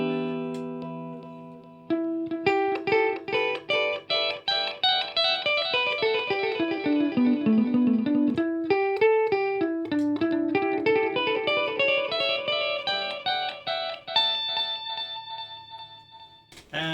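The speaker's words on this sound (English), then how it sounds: "Then let's try the momentary delay." Electric guitar played through an Arachnid effects pedal set to momentary delay: a run of loud, rapid picked notes with repeating echo tails, the pattern rising and falling before a brief pause and a final burst.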